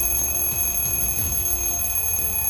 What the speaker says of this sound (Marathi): वाजतोय अलार्म, आता दाबू घड्याळाचं बटन.